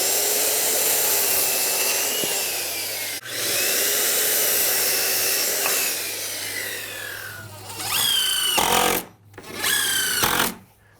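A power saw cuts shed door framing boards to size, giving a long, loud, continuous whine that dips briefly, then ends in two shorter final cuts.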